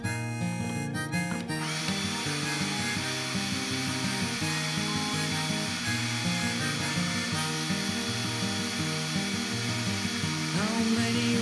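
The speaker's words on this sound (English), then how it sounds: "I've got the battery fully charged and the blower is on full speed" A Ryobi One+ 18V battery leaf blower runs steadily at full speed, a loud continuous motor whine and rushing air with shifting tonal layers, heard alone without talk for the whole stretch.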